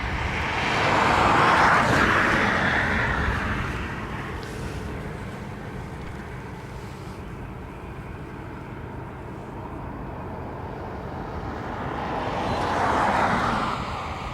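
An ATR turboprop airliner at Dublin Airport, bound for Leeds Bradford, gives a broad engine roar that swells loudly early on, eases to a steady distant rumble, then builds again near the end, with no talk.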